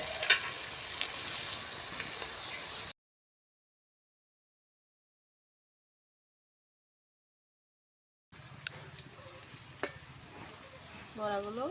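Karchi fish fritters wrapped in pumpkin leaves fry in a pan over low heat, giving a steady sizzle that cuts out to silence for several seconds before returning with faint voices.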